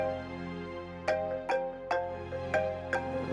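A phone ringtone sounds for an incoming call during an Indonesian drama episode, a repeating electronic melody with sharp notes recurring about every half second, steady and fairly loud with no talking over it.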